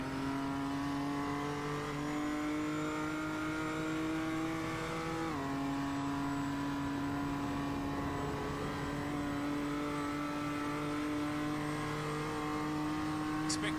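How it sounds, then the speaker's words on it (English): A race car engine in a sim racing game at Mount Panorama gives a steady high-revving drone heard from on board. The pitch holds level, dips once at a gear change, then holds again. The engine stays loud and continuous throughout. "The sights and sounds of Mount Panorama as Oscar, right on board with him for the moment, travels through the L, going towards the long Conrod Straight."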